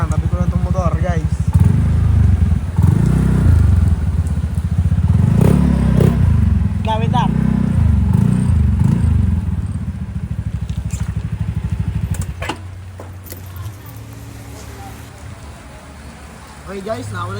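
A motorcycle engine idles close by with a low rumble and some clatter, then cuts down as the bike is parked, while a person speaks briefly.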